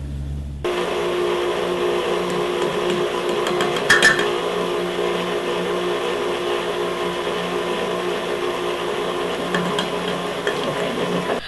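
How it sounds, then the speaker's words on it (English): A stand mixer starts up and runs steadily, a constant motor whir as powdered sugar is beaten into thick buttercream, with a brief clatter near the start and no speech. "Put your powdered sugar in about a ½ cup at a time and then get your mixer started"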